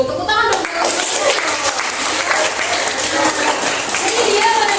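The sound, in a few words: classroom clapping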